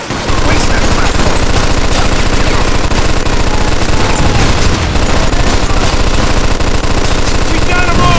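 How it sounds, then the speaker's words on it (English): Gunfire in the video game Mafia 2 during a shootout at a window, rapid machine-gun bursts rattling continuously and loud, with heavy booms mixed into the clatter. "Stop shooting that fucking thing."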